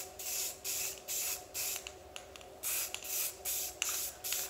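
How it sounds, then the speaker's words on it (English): An aerosol rattle can sprays paint onto miniatures in short, regular bursts, about eight hissing puffs close to the mic with brief gaps between them. "I shouldn't have to teach you how to use a rattle can"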